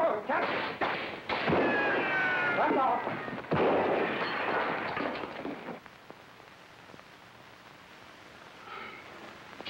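Several sharp gunshots ring out close by in quick irregular bursts, followed by a quieter stretch of low rumble and scattered faint pops.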